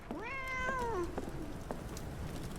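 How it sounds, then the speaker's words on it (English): A cat meows once, a long rising-then-falling call, clear and close, inside the video game Sherlock Holmes The Awakened, with quiet ambient background after it. "Oh, that's a cat."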